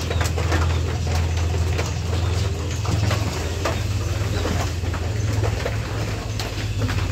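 Pigeons cooing in a pigeon house while it rains, low soft coos repeating over a steady hiss of rainfall close by, with no talking.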